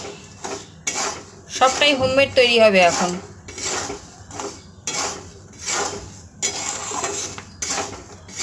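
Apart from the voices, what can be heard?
raw peanuts being roasted in salt in a pan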